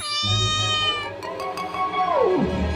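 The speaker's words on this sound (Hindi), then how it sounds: "एक गोदाम में एक बिल्ली रहती थी।" A cat meows with a long, drawn-out cry whose pitch slides downward at the end, heard close and clear with no talking.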